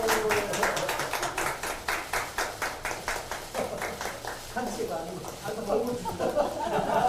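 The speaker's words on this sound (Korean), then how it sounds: "큰 박수 부탁드립니다" Applause from an audience at a youth housing policy announcement, with a rhythmic, steady clapping beat that thins out midway, while people talk over it.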